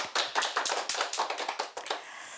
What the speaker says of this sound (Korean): 오늘도 열정을 다해 강해해 주신 신부님께 큰 박수 부탁드립니다.